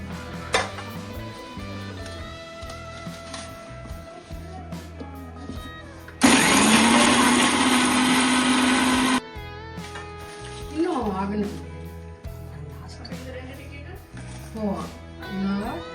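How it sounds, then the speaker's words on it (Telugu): A mixer grinder grinding roasted urad dal, dried chillies and curry leaves for idli podi runs loud and steady for about three seconds mid-clip, a dense whirring roar that abruptly starts and stops amid kitchen clatter. "రోస్ట్ చేసుకున్న ఉద్దిపప్పుని, తర్వాత మిరపకాయల్ని అండ్ కరివేపాకుని మొత్తాన్ని మనం ఇట్లా మిక్సీ పట్టేయాలి"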